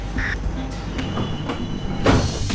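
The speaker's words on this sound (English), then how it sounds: "This is the ARB train we use as a prototype to test our supercab flash charging technology." A prototype tram tested with supercapacitor flash-charging technology runs along the track, a moderately loud rumble with faint squeaks and a brief louder clatter near the end.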